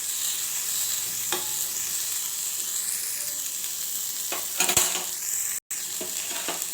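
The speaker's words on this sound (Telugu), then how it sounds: "వేసేసుకొని వీటిని కొద్దిగా పచ్చివాసన పోయే వరకు వేయించుకోవాలి" Chopped tomato and spices frying in a pan for a village-style chicken curry paste, a steady close sizzle with stirring scrapes and a few utensil clinks.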